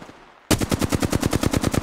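Rapid automatic gunfire in Apex Legends bursts in abruptly after a quiet moment, a fast steady stream of loud, closely spaced shots that continues to the end with no talk over it.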